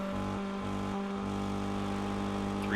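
A mini stock race car at Charlotte Motor Speedway in the iRacing sim, its engine bogging down, drones as a steady, low, held tone with no clear revving, loud and continuous throughout.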